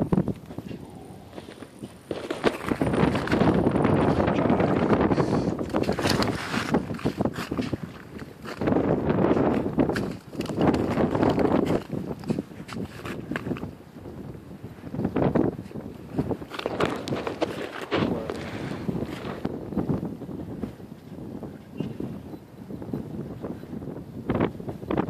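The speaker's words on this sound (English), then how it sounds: "That wind's picked up." Strong wind buffets the microphone on a river while fishing from a boat under overcast skies, a loud, continuous rushing roar that swells and dips in gusts throughout, with faint knocks and movement beneath it.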